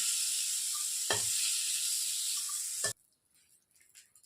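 Fried shrimp crackle in hot sizzling oil for about three seconds, with two quick scraping knocks as pieces are lifted out, before the loud sizzle cuts off abruptly into near silence.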